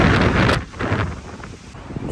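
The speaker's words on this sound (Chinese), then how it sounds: "树叶吹得哗哗的响。" Strong wind gusting through tree leaves in a large park near a cloisters museum, a broad steady rushing rustle that swells loudly in the first half second, then eases and carries on with a speaking voice over it.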